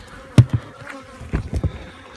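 Honeybees buzz near a hive during a varroa mite check, with brief close passes and bumps of buzzing standing out over a quiet background.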